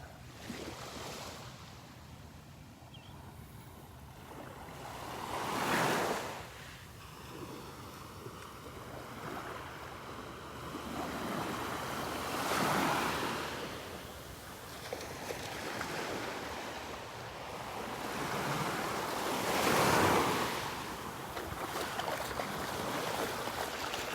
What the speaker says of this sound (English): some nice little waves kicked up there.